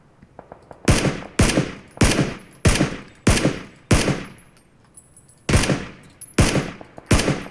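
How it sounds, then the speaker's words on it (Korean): Nine sharp gunshot bursts in PUBG: Battlegrounds, each ringing out and decaying, spaced about a second apart with short pauses, loud and close. "산 위에서 계속 총소리 들려요"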